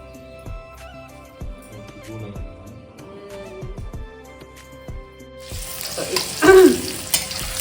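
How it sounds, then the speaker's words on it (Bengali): Potatoes and meat frying in a pan, a steady sizzle with scraping and stirring clatter, growing louder and hissier toward the end, no voices. "এই যে মাংসের আলু ভাজা হচ্ছে"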